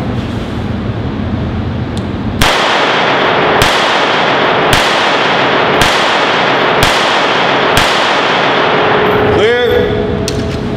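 Walther PPK pistol fired on a range, six sharp shots at a steady rhythm of roughly one per second, each crack loud and close with a short ringing tail over a constant background hiss.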